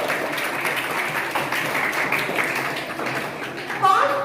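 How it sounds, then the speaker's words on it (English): A school audience at a general knowledge quiz applauds a quiz team, a steady spread of clapping from many hands with a voice speaking over it throughout. "Great applause for Team A."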